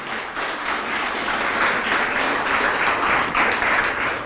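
A church congregation applauds during a sermon, a dense, steady wash of clapping that stays loud and even for several seconds with no speech over it.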